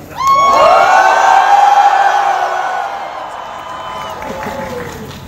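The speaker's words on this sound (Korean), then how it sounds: "혹시 만약 가결 이후에 진행될 학생 행진에 함께 하실 분들께서는 함성을 부탁드리겠습니다." Crowd of university students at a general student assembly shouting and cheering in a loud, sustained roar of voices and whoops that swells at once and then slowly fades.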